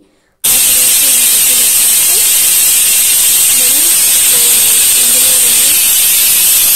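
A pressure cooker of palak dal vents its steam in a loud, continuous, high hiss that starts abruptly and holds steady, with a faint voice underneath.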